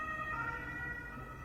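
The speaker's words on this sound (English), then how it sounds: "police car or something, ambulance." An ambulance or police car siren wails outside, a steady faint tone held through the short moment, distant and muffled behind indoor quiet.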